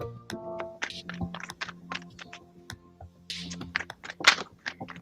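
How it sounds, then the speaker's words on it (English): A tarot card deck being shuffled by hand, an irregular run of soft taps, flicks and thumps of cards close by, over a faint, steady tonal background. "Just shuffling your deck for a minute, getting a feel for who's out there."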